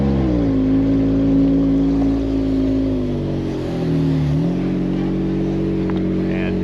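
Jeep Gladiator engine chugging slowly along an off-road dirt trail, a steady low drone with a dip in pitch midway, close and continuous with no talk.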